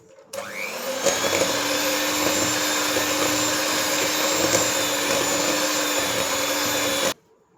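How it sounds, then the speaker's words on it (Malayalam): Electric mixer beating sugar into orange cardamom cake batter, a steady loud whirring motor hum that starts abruptly and runs unbroken for about six seconds before cutting off. "ഇനി പഞ്ചസാരയും കൂടെ ചേർത്ത് നന്നായി ബീറ്റ് ചെയ്യണം."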